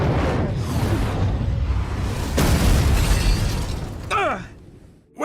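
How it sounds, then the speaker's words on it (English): A single sharp gunshot crack from the mech action game Daemon X Machina cuts through a dense, roaring game soundscape about midway, followed later by a whooshing sweep before a sudden drop to near silence. "Where'd that shot come from?"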